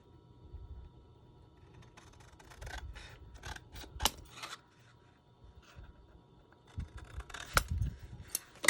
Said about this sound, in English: I'm going to go ahead and trim this back so it's a little more even all the way around